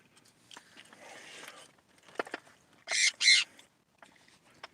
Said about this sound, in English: That's my bird, Paco, Sun Canor Parrot